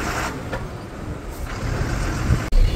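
Heavy road traffic of trucks and buses idling and creeping at a highway toll plaza, a continuous near engine rumble with a sharp air-brake hiss and thump near the end.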